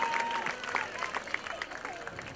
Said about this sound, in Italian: Forte questo applauso